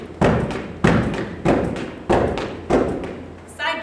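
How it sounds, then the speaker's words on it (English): Heavy, evenly spaced thuds from rapid machine gun kicks striking a pad or bag during a fitness workout, five or six strong blows about half a second apart, close and loud. "Machine gun kicks is another one we'll use as well."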